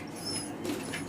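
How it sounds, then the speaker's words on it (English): A puppy whimpers briefly indoors, a faint high thin whine rising over quiet background noise, heard up close. "I'm really sorry about the dog"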